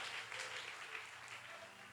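Congregation clapping in praise to the Lord during a church sermon, a steady wash of many hands filling the room for two seconds without a pause.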